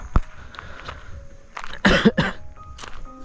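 A person coughs once, a short rough burst up close, with a few small clicks and light movement sounds before and after.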